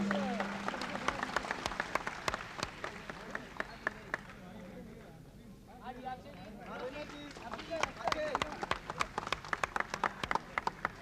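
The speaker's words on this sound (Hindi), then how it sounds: "जोरदार तालियां दीजिएगा।" An audience at a Bollywood awards event applauds loudly, a dense, steady clapping crowd with sharp individual claps standing out, briefly softening in the middle before swelling again.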